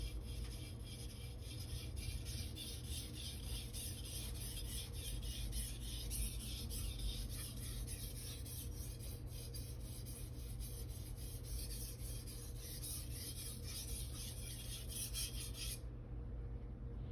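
An Aogami super steel knife being sharpened on a whetstone, a continuous soft rasping scrape held close and quiet, running steadily before stopping abruptly near the end.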